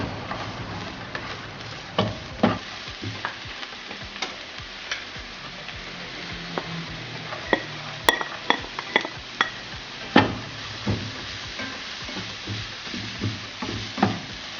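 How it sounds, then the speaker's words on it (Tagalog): Onions and garlic sautéing in hot oil in a home kitchen, a soft continuous sizzle broken by scattered sharp clicks and taps of utensils against the pan. "Then I'll add the onions and garlic until fragrant and softened."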